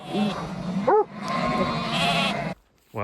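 Sheep bleating on a New Zealand farm during lamb docking, where a ewe is with her lambs: a few short, wavering bleats close by over a steady background of farm noise, with a brief quiet gap near the end.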